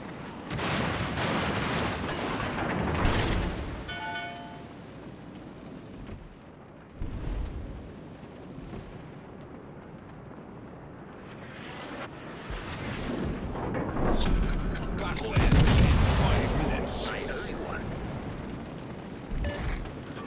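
HMS Hood's naval guns fire in the game World of Warships Legends, heavy booming salvos rolling out at intervals over a continuous rumble of battle and engine noise.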